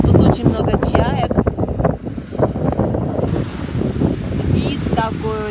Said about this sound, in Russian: слушаем, как волны бьются о берег